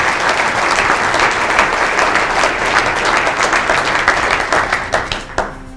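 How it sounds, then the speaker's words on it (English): An audience at a morning civic breakfast gives city candidates a round of applause, loud dense clapping throughout that tapers into a few scattered claps at the end. "So let's give them one more round of applause,"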